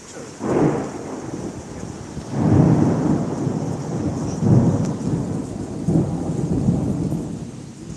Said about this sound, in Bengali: কিন্তু শুরু করলাম ঝড় বৃষ্টি দিয়ে